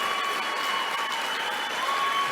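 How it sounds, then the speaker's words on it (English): A conference audience at Wise Traditions 2024 breaks into sustained, dense applause that holds steady for the whole stretch, with faint voices mixed in. "I know why you're clapping."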